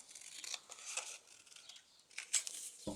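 Scissors snipping through a paper picture for a travel journal, a few short quiet cuts and rustles spread across the moment, close and soft with no talking.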